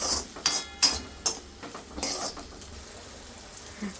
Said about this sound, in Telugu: ఇలా ఫ్రై అయ్యే వరకు వెయిట్ చేయండి.